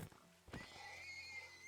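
A Minecraft horse lets out a short neigh that rises into a bright whinny, close and fairly quiet, with a soft thunk at the start.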